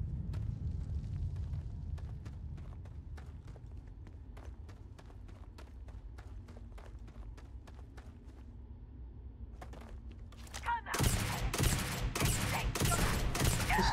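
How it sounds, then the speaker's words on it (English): Powerful gun firing in the video game Starfield Shattered Space: a rapid burst of heavy, loud shots near the end, preceded by a long stretch of regular light ticking steps over low rumble, no talking. "This gun is really powerful"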